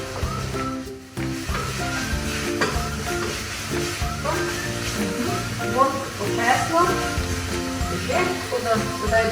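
Garlic fries over raised heat in a pan, with Hokkaido squash about to join it. A continuous sizzle with occasional stirring clatter runs beneath a person talking almost throughout.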